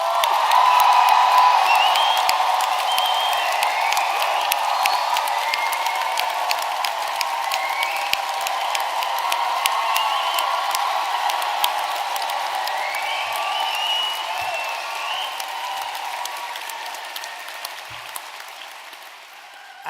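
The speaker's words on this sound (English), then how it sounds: "I'm going to start by asking you to produce a tremendous round of applause for your" A graduation ceremony audience gives the principal a long round of applause, sustained dense clapping from a large hall crowd with a few whoops, strongest at the start and gradually tapering off.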